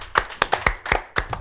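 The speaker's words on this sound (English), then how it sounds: "So let's give everybody a round of applause." Scattered hand claps from a small audience, about a dozen sharp individual claps at an irregular rhythm, close and fairly loud with no talking.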